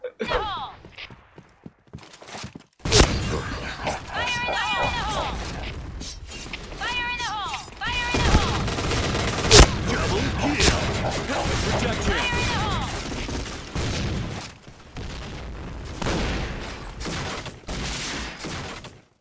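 Shotgun fire in the Point Blank shooter game: a few loud, sharp blasts ring out among clattering weapon mechanics and game effects, with voices audible in the background.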